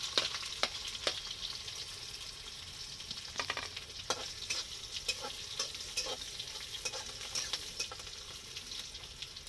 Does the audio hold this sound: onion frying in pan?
yes